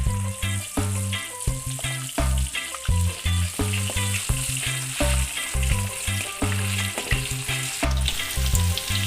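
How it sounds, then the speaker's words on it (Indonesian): Halved jengkol beans fry for homemade crackers. Oil sizzles and crackles loudly and continuously, and a pattern of rhythmic bursts suggests stirring. No one talks. "Kemudian ini kita goreng ya Bunda."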